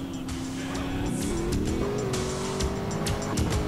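A car driven in the video game GTA San Andreas revs with a rising, steady engine drone, joined by tire noise and short sharp bursts, loud and close throughout.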